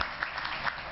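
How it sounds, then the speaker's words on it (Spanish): An audience applauds for a speaker at a panel discussion on reproductive justice, a short moderate burst of clapping heard alone. "Un fuerte aplauso para Fanny."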